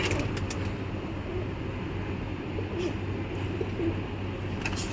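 Soft cooing of pigeons over a steady low rumble of background noise, close by and repeating.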